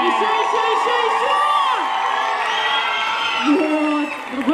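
An audience at a dance-floor concert erupts in loud cheering, whoops and high shouts, a dense roar of voices that carries steadily before easing slightly at the end.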